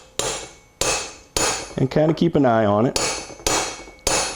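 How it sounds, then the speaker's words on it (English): A small brass hammer taps a gear down into a Powerglide transmission carrier with sharp, regular metallic strikes, about one every half second, while someone talks briefly between them. "let me tap it down with my little brass hammer here"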